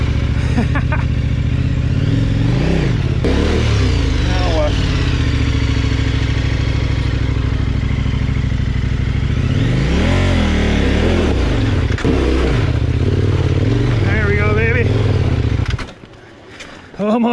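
Adventure motorcycle engine, a Yamaha Tenere 700 or KTM 1090, running loud and close with repeated rising and falling revs and rough mechanical clatter, cutting out near the end; a voice speaks over it.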